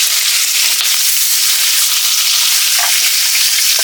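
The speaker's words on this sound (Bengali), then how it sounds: "মাছের মাথা ভাজা হয়ে গেছে, আমি এখন তুলে দিচ্ছি।" A turmeric-coated fish head frying in mustard oil in a wok crackles and hisses loudly and without pause, an intense close sizzle with small pops.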